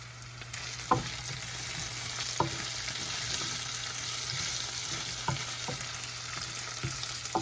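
Spices and curry leaves crackling in hot oil, a constant close hiss dotted with occasional sharp pops and spits, with no voices.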